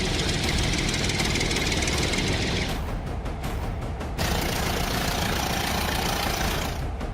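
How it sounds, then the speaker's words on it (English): A tractor with a plow, its engine running with a knocking, rattling idle, loud and continuous, shifting in tone partway through, with no voices. "tractor with plow,"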